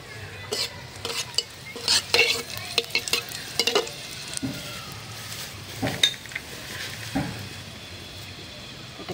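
Torn dried chillies sizzle in hot oil in a pan. A utensil stirs them in irregular scraping strokes with light metallic clinks, and the steady frying hiss carries on underneath.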